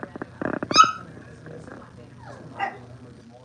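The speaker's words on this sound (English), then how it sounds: "that little dog, he's barking." A small puppy yaps in a few short, close barks near the start, with a later brief yip, against a quiet indoor background.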